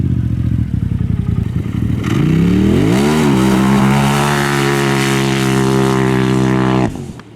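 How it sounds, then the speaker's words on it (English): An off-road vehicle engine with a sand-tuned clutch kit is driven in dirt: a rough, popping idle surges into a loud, sustained high rev that holds flat against the limiter before cutting off abruptly. "don't like it backfiring out of the hole like that, though. I think it's hitting the limiter."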